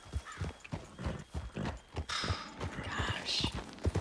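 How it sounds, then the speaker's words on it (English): Thoroughbred horse hooves clip-clopping in the video game Red Dead Redemption 2, a rapid run of sharp close hoof knocks with a brief neigh, while someone talks over them. "That is a nice thoroughbred."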